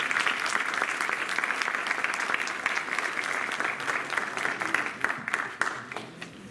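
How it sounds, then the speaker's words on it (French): Audience applause at a French panel event as a label founder is welcomed on stage: steady, dense clapping from a large crowd, moderately loud and sustained throughout, tapering slightly near the end. "Je vous demande de l'applaudir, s'il vous plaît."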